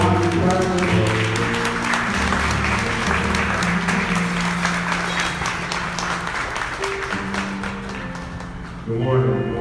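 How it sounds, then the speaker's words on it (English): Audience clapping at a Fort Valley State University gathering: a crowd applauds loudly and continuously with organ or keyboard chords underneath. It fades slightly, then swells again at the end. "Can we stand to our feet and give a hand clap for that?"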